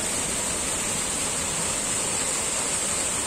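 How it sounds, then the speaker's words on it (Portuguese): A tall waterfall, Cachoeira das Andorinhas in Espírito Santo, Brazil, roars steadily, a dense, constant rush of falling water with no pauses or other sounds. "Olha só que coisa linda essa cachoeira."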